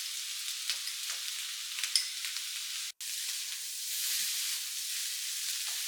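Oyster sauce water poured into Cantonese fried rice in a hot pan, giving a close, steady hissing sizzle that swells slightly toward the end, with no voices.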